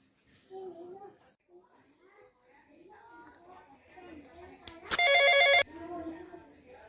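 A telephone rings once in a short burst of electronic trilling in a quiet indoor scene, with scattered faint talk before and after.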